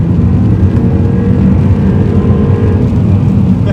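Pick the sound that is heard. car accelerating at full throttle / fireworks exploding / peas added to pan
car accelerating at full throttle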